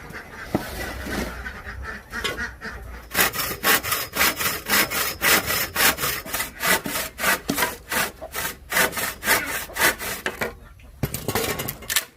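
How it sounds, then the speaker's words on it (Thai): A hand saw cuts through wood for enlarging a duck coop, in a steady back-and-forth rhythm of rasping strokes, close and loud, after a few slower starting strokes. "ขออนุญาตตัดไม้ก่อนเลยแล้วกันนะครับ"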